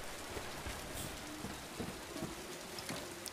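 Steady rain falling in the Silent Hill 2 Remake game world, a continuous soft hiss close by with scattered small droplet patters and no voices.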